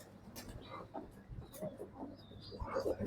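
A hen gives soft, faint clucks, scattered and low in level, with voices murmuring nearby.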